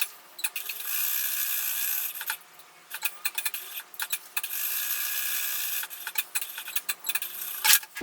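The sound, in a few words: sewing machine stitching a small square on fabric tote bag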